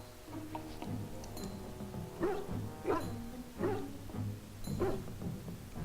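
A dog in the video game Dragon Age: Origins gives a series of short, close, happy barks and yips, about four distinct barks spaced roughly evenly, over faint background ambience.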